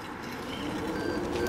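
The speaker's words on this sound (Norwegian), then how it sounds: "kan dere høre, så piper hovedbålet" A hoverboard's speed warning beeps at 6 km/h as thin, steady high tones over a low rolling hum, moderately loud with no talk.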